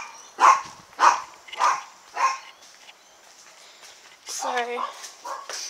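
A dog barks four times in a steady rhythm, fairly close, then a person speaks briefly over a softer whine.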